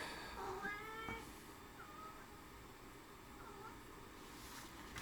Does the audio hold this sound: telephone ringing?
no